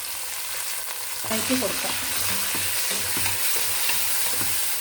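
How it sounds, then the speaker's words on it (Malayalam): Ground ginger, garlic and onion masala paste sautéing in a pan for chicken biryani; a steady frying hiss swells sharply as the paste goes in, with stirring scrapes, under a brief spoken phrase. "അരച്ച് ചേർത്ത് നമുക്കൊന്ന് വഴറ്റി കൊടുക്കാം."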